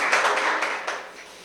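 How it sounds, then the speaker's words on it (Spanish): Church congregation applauding during a worship service, a short burst of rapid clapping from a group that fades out within about a second. "Damos un aplauso al Señor por su presencia y por su gracia."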